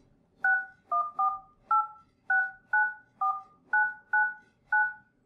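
A Yealink CP960 IP conference phone dials a test call, sending a quick series of about eleven clear, evenly loud touch-tone beeps in an uneven rhythm, with nothing else audible.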